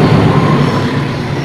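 A loaded coal freight train of 20 wagons rumbles past in Indonesia, a steady loud low roar of wheels on rails.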